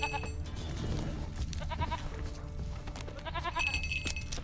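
Two separate wavering bleats from a goat in The Witcher 3, one near the middle and a louder one toward the end, over a continuous game soundscape with low rumble.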